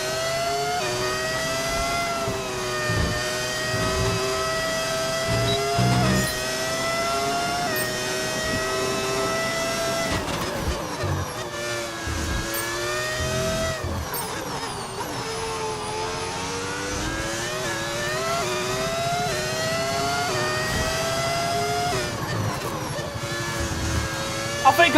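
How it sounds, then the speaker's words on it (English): Simulated F1 car engine in the F1 25 racing game, a continuous high-pitched whine rising and falling with gear changes and throttle through corners, steady and loud, with a voice talking over it at times. "I'm driving a car on a game"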